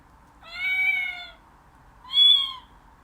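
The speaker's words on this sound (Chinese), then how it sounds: "接下来是 cat 猫咪" Two clear meows from a cat sound effect in a children's animal puzzle book, each about a second long with a pause between, close and alone over a quiet background.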